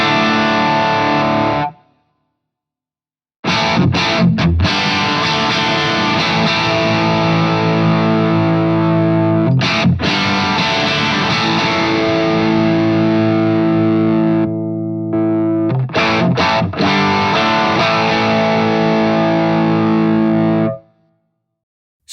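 An electric guitar plays sustained chords and riffs through a Boss OD3 overdrive and an Ibanez TS9 Tube Screamer, loud and gritty, with brief silent gaps and choppy pick attacks between passages and no talk.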